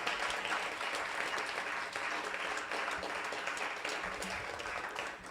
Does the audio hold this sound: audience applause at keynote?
yes